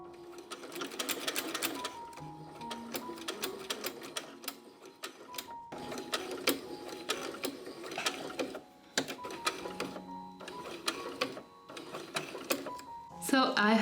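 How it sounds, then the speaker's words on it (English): A sewing machine stitches over a basting seam on a small doll's corset bodice, running in repeated rattling bursts with short pauses while a person talks throughout. "I'm going to take this to the sewing machine and just sew over this basting seam"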